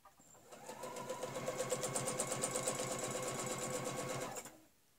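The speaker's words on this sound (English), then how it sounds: "I'm going to start there and stitch down" A sewing machine stitches a curved quilting line at a fast, even pace, its rapid rhythmic needle chatter starting up, running steadily for about four seconds, then stopping, close and clear with no talking.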